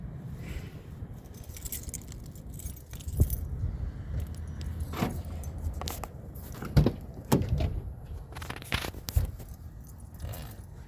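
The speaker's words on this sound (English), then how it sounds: "hang on a second while I find my keys" Keys jangling and clinking in short bursts, close by, with scraping and rustling between them; no talking.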